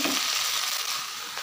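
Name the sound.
peanuts dry-roasting without oil on a dosa tawa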